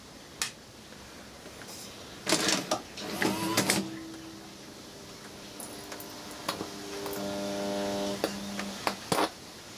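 A cheaply built tape transport motor brought up on a variac whirs and whines in rising tones, with scattered clicks and thumps around it and no voices.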